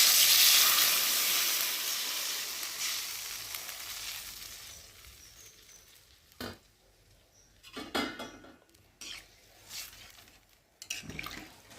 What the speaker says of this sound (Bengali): আর এখন আমি জল দিয়ে দেবো।